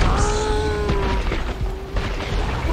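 A booming explosion in the video game Killing Floor 2 on a London map rolls out loud at the start and decays under game noise and a voice.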